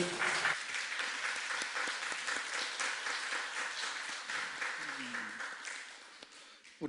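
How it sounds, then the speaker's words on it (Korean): Church congregation applauding during a Sunday worship service, a steady wash of clapping filling the room for several seconds before tapering off, with a voice speaking faintly underneath. "우리 박수는 하나님께 영광의 박수입니다."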